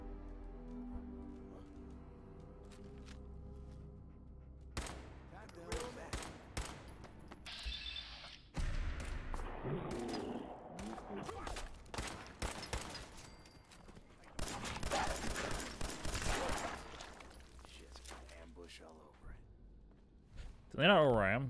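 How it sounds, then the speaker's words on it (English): Shotgun blasts in Fallout 4: sharp, loud shots fire in irregular bursts, with a denser volley of gunfire in the middle and a final loud blast, and a voice talks between them. "Might as well use a shotgun."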